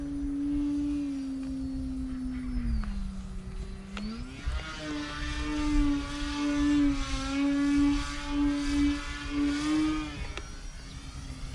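A 3D RC plane's electric motor on a 14.8-volt battery whines steadily through a hammerhead into an inverted flat spin, its pitch dipping briefly then climbing back to a sustained, wavering buzz.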